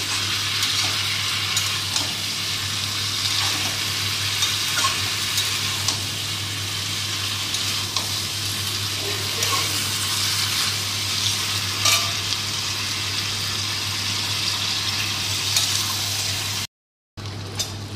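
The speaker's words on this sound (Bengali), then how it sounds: "এই যে এবার এটা মশলাটা কষিয়ে জল দিয়ে দেবো।" Masala sizzles and is stirred steadily in a pan while cooking with hilsa fish head and Malabar spinach, a continuous close frying hiss with scraping strokes and a steady low hum, briefly cutting out near the end.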